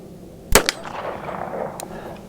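A Springfield Armory 1911 TRP pistol fires 230gr and 185gr handloads at a target about 20 yards away: one sharp, loud shot, a quick echoing tail, then a fainter click or clank afterward.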